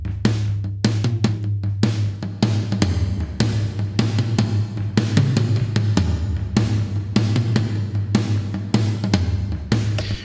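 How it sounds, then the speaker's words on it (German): Tom drums soaked in big room reverb from a mixing aux send, struck in a steady stream of loud hits whose long reverberant tails blur into one another. A single voice speaks briefly. "Ich habe das Reverb hier auf einen Aux, auf einen Hilfskanal gesetzt und drehe den Wet-Regler deswegen ganz hoch und das klingt richtig gut auf Drums."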